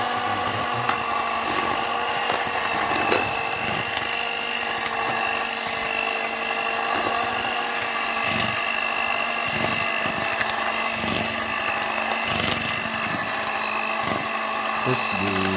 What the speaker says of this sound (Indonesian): Terus di mixer sampai habis lagi.